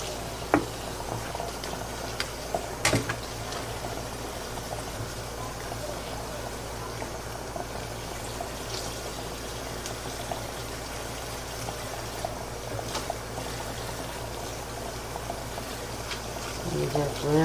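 Fresh mustard and turnip greens are washed in a basin of water, giving a steady, close sloshing and running-water wash with occasional splashes and a louder splash near the end.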